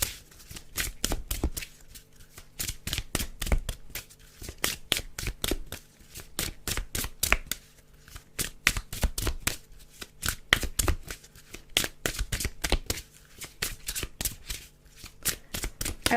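Tarot cards are shuffled again and again in quick riffling bursts, close and crisp, with bumps and knocks against the microphone in between.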